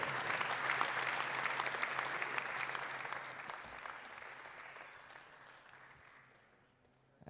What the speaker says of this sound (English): why not give them a big round of applause?